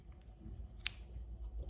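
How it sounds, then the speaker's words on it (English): A single quick snip of scissors cutting crochet yarn, close and crisp, set against a quiet room background. "We can cut the yarn."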